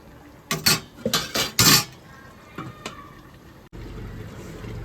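A metal lid lifted off a pot of fish curry, with a few loud close clanks and clinks of metal on metal, then quieter taps and a low steady simmer.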